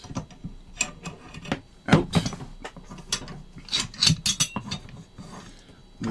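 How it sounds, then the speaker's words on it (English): An M1 carbine's bolt is rotated and pulled back by hand, giving a close, dry series of metallic clicks, scrapes and ratcheting snaps with short pauses between them, with no voices. "rotate the bolt, bring it back, down"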